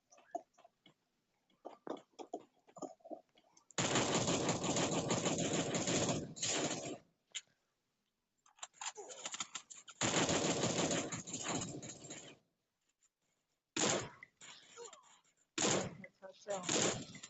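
Machine gun fire in a French-language shooter video game, with long sustained bursts and shorter volleys alternating with quieter gaps while players talk excitedly over it.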